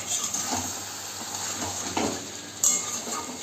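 Chicken curry sautéing in a pan: a soft, continuous sizzle of frying, with a spoon stirring and scraping at intervals and faint clinks of cookware.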